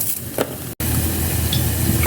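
Mushroom pieces frying in hot oil in a pan, a steady close sizzle with occasional stirring, briefly cut out midway, then continuing loud and even.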